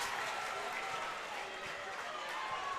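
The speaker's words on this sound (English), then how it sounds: "Both sides of the gym there were doing chants with their feet off tempo." A high school girls' basketball crowd in a packed gym roars continuously, with cheering and chant-like noise that keeps a dense, steady level across the whole moment and shows no clear separate stomps.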